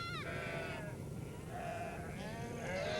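Sheep bleat outdoors on the Mongolian steppe, several wavering calls overlapping one another against a steady background of open-air noise.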